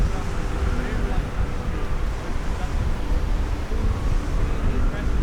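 Strong wind of a winter storm, with gusts around 80 mph, roars steadily and loudly at a cottage without any rain, a dense unbroken rush that fills the whole stretch.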